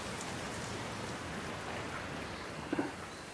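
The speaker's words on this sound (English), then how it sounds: "right now it is raining" Steady rain falling and pattering on surfaces, a constant wash of noise with a brief louder tap near the end.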